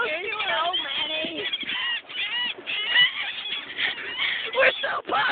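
Seagulls calling close by, a crowd of harsh, overlapping squawks and cries that carry on throughout with hardly a break, under some talk.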